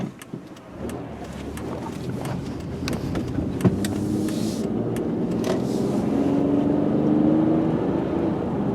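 A 2001 Chevrolet Impala engine hums and gradually builds as the car accelerates along the road to about 55 mph, with a rising whine and light clicks inside the cabin.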